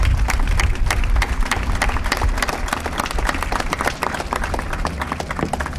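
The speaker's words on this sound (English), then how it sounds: "I would like us to give a round of applause to his wife and his son" Crowd applause at an outdoor street naming ceremony honoring Mayor Rudy Clay in Gary, Indiana, with dense, steady clapping from many hands, loud and close throughout and no talking over it.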